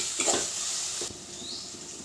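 Turmeric, ginger paste and tomatoes with lentils stirred in a pan, faint sizzling under a couple of soft scraping strokes, close and without talk.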